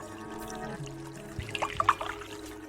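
Fresh water is poured into a glass, a short gurgling trickle with bright splashy bubbling that rises toward the end, close by and fairly quiet against a soft room background.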